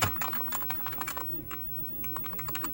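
Rapid, close clattering of keys on an Amiga 1200 computer keyboard under repair with a fault that leaves caps lock stuck and half the keys dead, a dense run of loud clicks with no talking.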